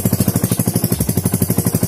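A modified Yamaha Mio J scooter engine runs after starting, with a loud, fast, even pulsing putter that stays steady and close throughout, with no voices.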